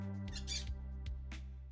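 An injured parrot in Stardew Valley gives a few short, bright squawks, faint and in quick succession over a steady game music drone.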